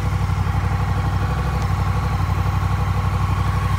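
A Honda Rebel 1100 DCT motorcycle idles in drive with a loud, steady, close low rumble and an even pulsing beat throughout, with no speech.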